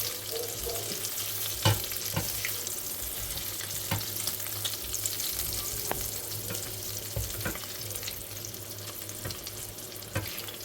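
Meatballs frying in a pan, a continuous quiet sizzle with scattered light clicks and taps of a utensil against the pan, close by and alone.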